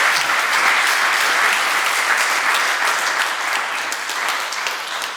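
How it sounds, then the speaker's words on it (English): An audience at a Swiss blockchain community panel applauds the panelists. The clapping is dense and sustained, starts full and fades slightly toward the end, with no voices over it. "Give some round of applause to the panel at this point."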